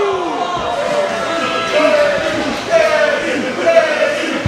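A wrestling crowd mocks Eddie Kingston with loud rhythmic chants that swell and repeat, under a commentator talking throughout.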